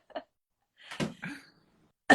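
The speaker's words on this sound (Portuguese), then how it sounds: "vou tossir bastante, que eu tô meio gripada" A woman with a cold coughs several times in short separate bursts, close to the microphone, with quiet pauses between them and a sharp final cough.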